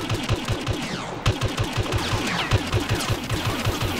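Rapid sustained gunfire from a Star Wars Battlefront survival match, a dense stream of close, loud blaster shots in steady rhythm with no talking.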